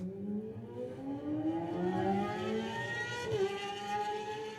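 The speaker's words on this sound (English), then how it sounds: "Chris, you can hear just here in the background the revs rise, and Chris is away." A Kawasaki racing motorcycle engine revs up and rises in pitch at the Manx Grand Prix road race, a steady loud whine climbing over several seconds with a background hum.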